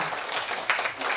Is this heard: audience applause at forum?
yes